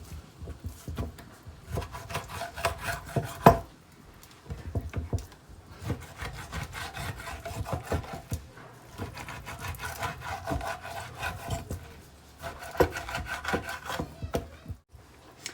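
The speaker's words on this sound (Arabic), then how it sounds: "بعد ما قطعت المورسون ديال الصومو" A knife slicing a cleaned salmon fillet into pieces on a kitchen board, heard as steady close scraping and rubbing cuts with brief pauses, no talking.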